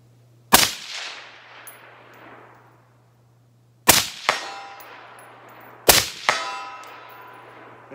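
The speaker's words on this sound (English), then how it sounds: "Shooting steel, standing at 200 yards and 100 yards using a laser" Three sharp rifle shots ring out at a shooting range, each followed by the clang of bullets striking steel targets at 100 yards, with a metallic ring that decays slowly; the shots are loud and well spaced.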